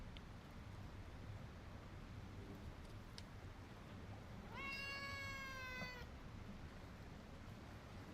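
A cat meows once in the video game Icarus, a single drawn-out cry rising in pitch over steady low background hum, clear and fairly close with no talking.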